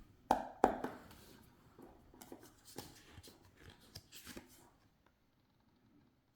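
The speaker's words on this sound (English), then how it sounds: "since I can't riffle shuffle these, I'm just doing, I don't know," Tarot cards being shuffled by hand without riffling, a series of soft, close papery slaps and sliding rubs in irregular bursts that thin out and fall quiet toward the end.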